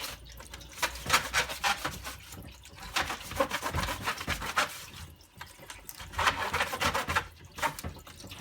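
A soft brush scrubs the thin aluminium sheet fins of an AEG tumble dryer condenser, close-up rhythmic rasping strokes in repeated bursts with short pauses and no talking.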